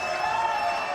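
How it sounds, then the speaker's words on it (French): A TV studio audience applauding a guest on a French show, a brief, steady burst of crowd clapping with a faint tonal hum underneath. "Allez, applaudissements pour Karine Ventalon."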